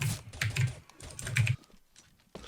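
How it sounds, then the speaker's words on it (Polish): Fast, clacky keystrokes on a mechanical keyboard patter in quick bursts, then fall quiet before another key press at the end. "Masz mechaniczną klawiaturę, nie? Bo słychać."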